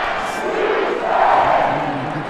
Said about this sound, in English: You can hear them yelling Sam Houston